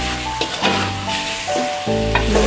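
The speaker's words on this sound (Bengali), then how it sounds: "যেন ভালোভাবে নেড়ে দেবেন, যেন মশলাটা সব জায়গায় মিশে" Spiced beef fried and turned in a pan, a loud continuous sizzle with a few scraping stirs and a low steady hum beneath.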